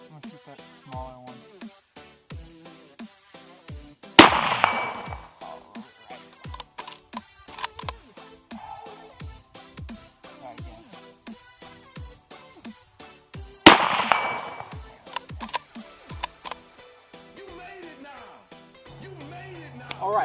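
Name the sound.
shotgun fire in video game Halo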